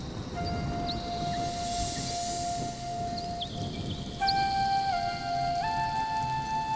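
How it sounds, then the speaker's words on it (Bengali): Steady rain pours outside during a stormy day, a continuous dense hiss with thin sustained tones layered over it and no voices. "বাইরে ঝড় বৃষ্টি"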